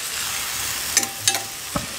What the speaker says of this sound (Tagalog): Halo-haloy lang natin. Palabasin lang kanyang mantika.